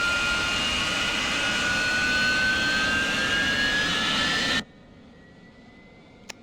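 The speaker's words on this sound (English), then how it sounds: "Move throttle forward, and the starter, the engine just picks up real quickly. Gets real loud on the front canopy." An AV-8B Harrier jet engine in the DCS flight simulator spools up from the cockpit, a loud rising whine over a broad roar that holds for about four seconds, then cuts abruptly to near silence with a faint residual tone.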